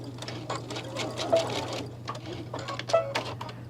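A sewing machine backstitches fabric for a garden lattice clutch bag, its needle hammering in quick, close rhythmic bursts that start, pause and resume.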